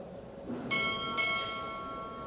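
Two ship's bell strikes at a Navy chief petty officer pinning ceremony, a pair of clear ringing metallic tones close together, each leaving a long bright resonance in a quiet hall.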